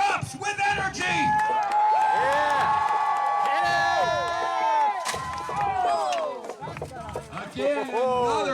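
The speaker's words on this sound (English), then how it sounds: "And the crowd erupts with energy." Spectators at a jousting tournament cheer and shout loudly, their voices rising and falling in whoops and calls that fill the space almost continuously, with a brief dip in energy midway.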